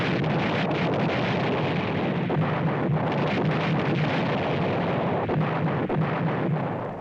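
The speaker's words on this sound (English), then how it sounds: "Day and night, the bombs continue" Bombs explode in the 1939 air raids on China as a continuous, loud, rumbling roar of blasts with no pauses, heavy and unbroken throughout.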